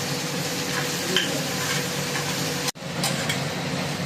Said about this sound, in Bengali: নুন হলুদ দিয়ে এই বাটাটা দিয়ে দেবো, কালো জিরে বাটাটা